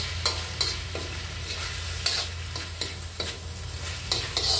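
Steady sizzling of vegetables and potatoes frying in a pan, with periodic scraping and stirring clatters over a low hum.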